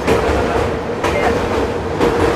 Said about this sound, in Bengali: ফারাক্কা জংশনে ঢুকলো আমাদের ট্রেন।